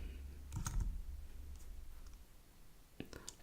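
Quiet typing on a computer keyboard, a few short bursts of soft key clicks separated by pauses, over low background hum.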